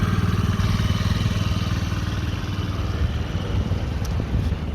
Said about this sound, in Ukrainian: Двигун працює дуже тихесенько